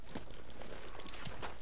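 Rapid hoof clip-clops from a horse in a video game, steady and fairly close, over a constant noisy background.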